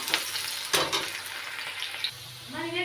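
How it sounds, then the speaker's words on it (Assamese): Onions fry in oil in a pan, a soft crackling sizzle punctuated by a few sharp stirring scrapes, fairly quiet and close, with a short burst of low murmur near the end. "পিঁয়াজখিনি এনেদৰে অকণ ভাজি লৈছোঁ"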